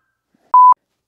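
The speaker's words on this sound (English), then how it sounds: "It'd be a shame if my phone notifications went off." A single short electronic beep from a phone notification, a steady clean tone about a fifth of a second long, loud and close against silence.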